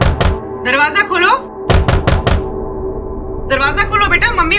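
Knocking on a door in a Hindi TV crime drama: a sharp single knock, then a quick cluster of three or four loud raps, alternating with urgent voices.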